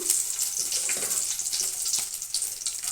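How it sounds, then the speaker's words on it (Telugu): Garlic sizzles in hot oil in a pan with popped mustard seeds and cumin, a continuous bright crackling hiss that stays steady and close throughout. "ఆవాలు జీలకర్ర ఎగిపోయాయండి ఎల్లిపాయలు వేస్తున్నాను"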